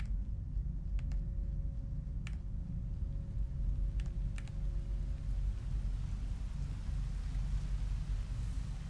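Rain in the video game Rain World hisses as a dense, steady wash of noise, with a few faint, brief ticks near the start and no voices.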